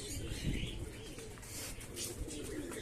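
Pigeons kept at home coo softly and repeatedly in a low, throaty rumble, with faint chirps mixed into a steady background hiss.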